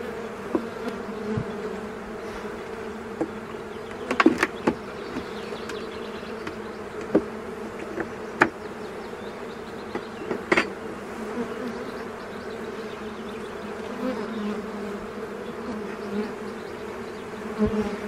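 Honeybees buzzing around an open, healthy hive, a steady close drone with scattered knocks and handling sounds over it.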